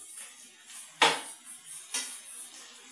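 Vegetable noodles tossed and mixed in a pan, with a sharp metallic scrape and clatter of utensil against the pan near one second, a softer second clink later, over faint background noise.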